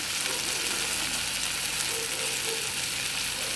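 Cumin powder sizzling steadily in a hot pan, a constant bright frying hiss with faint stirring, close and uninterrupted, no voices.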